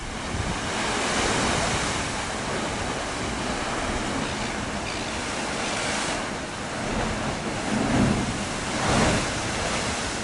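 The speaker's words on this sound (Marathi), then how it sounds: "गुहेमध्ये लाटा दाणकन आदळतात आणि त्या वर फेकल्या जातात" Heavy, roaring sea surf booms and washes continuously inside a coastal cave, with louder surges every few seconds; a dense, echoing water noise with no voices.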